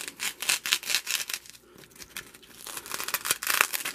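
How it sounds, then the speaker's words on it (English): A spoon gouging and scraping out foam for a model diorama makes close, irregular rubbing and crumbly tearing scrapes in quick bursts, rising and falling in strength. "just take a spoon, just start working away at the foam"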